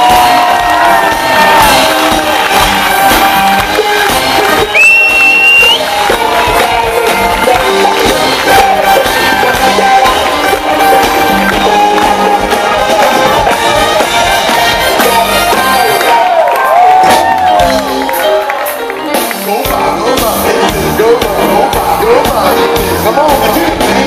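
A loud concert crowd at the CNE Bandshell in Toronto cheers and whoops continuously, with shouts and whistles layered over the steady roar while music plays.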